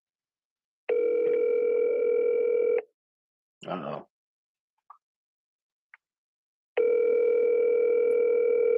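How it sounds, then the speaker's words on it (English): Two long, steady phone ringback tones separated by a quiet gap, with a brief spoken exclamation and a couple of small clicks in between. "All right, it's ringing. It's ringing."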